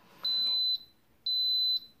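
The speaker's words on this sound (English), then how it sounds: "in a few seconds it'll beep and it'll start the pressurizing process" Two long, high electronic beeps sound about a second apart, clear and steady, from an Instant Pot electric pressure cooker close by in a quiet room, before it starts pressurizing for congee.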